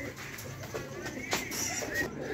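Pigeons, including Sialkoti high flyers, coo softly in low rolling calls amid faint rustling, with a few brief higher chirps.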